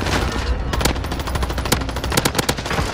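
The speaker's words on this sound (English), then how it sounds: "Oh, I got sniped." Rapid bursts of automatic gunfire in a first-person shooter video game, dense volleys of close shots crackling one after another over a loud, busy mix with no talking.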